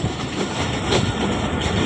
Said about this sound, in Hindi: जाफर एक्सप्रेस 40 डाउन पहुंच रही है रावलपिंडी रेलवे स्टेशन पे